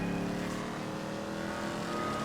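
An old car drives in Grand Theft Auto V, its engine droning steadily and evenly throughout, with no talk.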